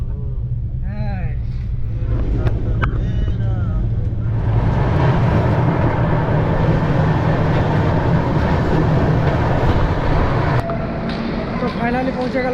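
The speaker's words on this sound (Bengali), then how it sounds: "এখানে এখন ট্রেন ছেড়ে দিয়েছে, ট্রেন ছেড়ে দিয়ে এখন যাচ্ছে নেক্সট ডেস্টিনেশনে" A long-distance passenger train pulls away from a station and runs on, a steady rumble building loud after a few seconds with rattling carriage noise, while people talk nearby over it.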